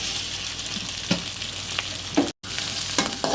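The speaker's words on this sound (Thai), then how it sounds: "ใส่น้ำมันลงไปครับพี่น้อง อันนี้ใส่น้ำมันหมูด้วยครับ แล้วใส่พริกแกง" Steady, dense sizzling of Thai curry paste frying in hot oil and pork lard, with occasional soft scraping clicks of stirring throughout.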